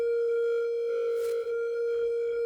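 A steady sustained synth drone from a Befaco Oneiroi Eurorack module with echo, holding one bright tone with rich overtones and a faint swell midway, loud and unbroken.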